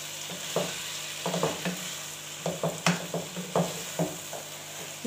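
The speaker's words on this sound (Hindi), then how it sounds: "हम इसको अच्छी तरह से मिक्स कर लेंगे ताकि सब मसाले चिकन के साथ मिक्स हो जाए" Chicken cooks with spices and tomatoes in a pan while a spoon stirs it, giving clustered scraping and clacking strokes in bursts over a soft sizzle, nearby.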